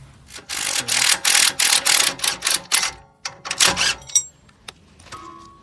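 A 22 mm spanner with a ratcheting action works a bolt loose on a BMW E92's suspension, a quick series of close, loud ratchet clicks in rapid bursts, then a few scattered metallic taps.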